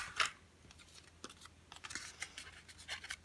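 Soft crinkling and scratchy peeling noises of tape being handled, a few quiet sharp tears and rustles close by.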